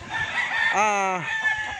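A gamefarm rooster lets out a single loud crow, a rising then sustained cock-a-doodle-doo near the middle, framed by softer clucking and background farmyard noise before and after.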